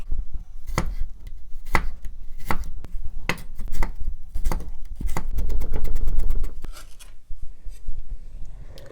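A knife chops fresh ginger into strips on a cutting board, with steady sharp taps that quicken into a fast run of cuts near the end, close and clear.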